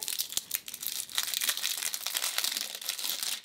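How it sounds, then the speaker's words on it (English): Crinkly plastic packaging around an Elf lip balm is unwrapped up close, a dense run of crackling and crumpling rustles lasting a few seconds with no talking. "So you just unwrap it like so."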